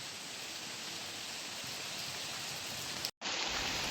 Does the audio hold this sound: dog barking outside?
no